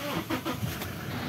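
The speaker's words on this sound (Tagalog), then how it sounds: "Sige po, start ko na po itong sasakyan." A Toyota Innova engine with a hard-starting problem cranks and runs, producing a steady, close mechanical rumble for a brief moment.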